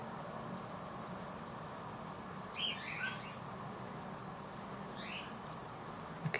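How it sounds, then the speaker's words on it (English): Goldfinches give a few faint, brief chirps at a distance over a low background hum, two short bursts a couple of seconds apart. "It must be the hot place to meet for goldfinches."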